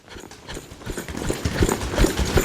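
Horse trotting in a round yard, a steady run of fairly close hoof clip-clops on soft ground that grows slightly louder, with no talking.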